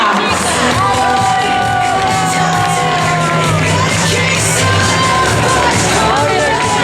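Spectators cheer, whoop and shout for runners reaching the finish of a women's race in Ourense, a loud, continuous crowd roar with a voice talking over it throughout.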